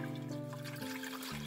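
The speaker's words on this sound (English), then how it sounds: "Get a little water in here." Water being poured into the reservoir of a coffee maker under repair, checked for leaks; a brief, close trickle and splash lasting a moment, with a steady background hum underneath.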